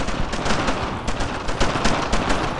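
Dense machine-gun fire in the WWII shooter Brothers in Arms: Earned in Blood, rapid overlapping bursts of automatic gunfire rattling steadily, close and loud, with no pauses.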